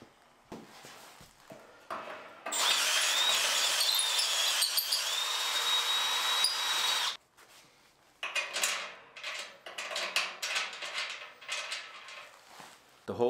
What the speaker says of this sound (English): I'll drill new holes for the new clevis pin